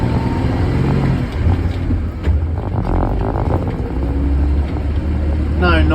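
Toyota FJ40 engine on a rough bush track, a loud close droning motor with rattling, changing note as it shifts into second gear, with a voice talking over it.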